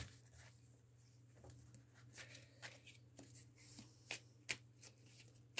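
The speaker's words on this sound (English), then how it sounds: "Let's do one more shuffle." Tarot cards being shuffled by hand close up, with soft riffling and patter broken by sharp flicks and snaps that come irregularly, quiet and with no talking.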